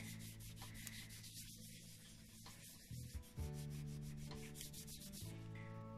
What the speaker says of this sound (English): Now you can see some of that residue from the embossing buddy, so I'm just going to wipe that